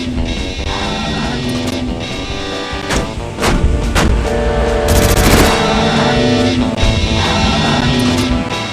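Loud, dense shooting and missile blasts fill a boss fight in the Xbox game Voodoo Vince. Rapid repeated shots pile over booming impacts and a constant game score, with no talking.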